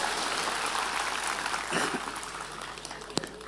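Congregation applause at an Indonesian church sermon in East Sumba, a dense continuous wash of clapping across the clip with a few sharper claps near the end, no speech on top.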